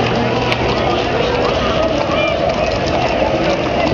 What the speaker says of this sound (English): Listen to that. The sound of horse hoofs.